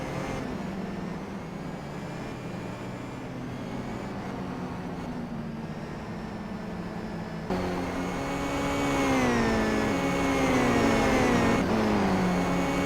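Racing cars in the Simraceway sim racing game drone steadily nearby with a continuous engine whine, the pitch rising and falling as they accelerate through a lap.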